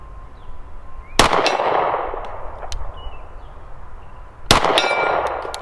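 Two loud gunshots from a Kimber Camp Guard 10mm pistol, each followed by a metallic clang as a round strikes a steel target plate, with ringing decay and distant echoes between them.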